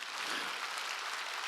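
Congregation clapping during a Sunday worship sermon in a Korean church, a steady dense wash of applause heard at a fairly quiet level throughout, with no voices over it.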